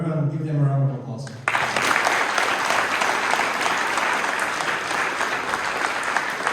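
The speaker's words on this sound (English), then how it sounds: "everyone give them a round of applause" Audience at a panel event bursting into loud, sustained applause right after someone speaks, the clapping continuing dense and even.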